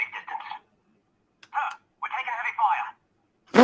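A telephone rings for an incoming call during a live podcast, sounding as several separate bursts of ringing broken by short silences, close and clear, with a sharp sound cutting in at the end.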